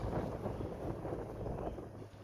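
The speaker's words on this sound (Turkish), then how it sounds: "Burası rüzgarlı şu an." Steady wind buffets the microphone, a low rumbling roar that continues throughout with no other sounds.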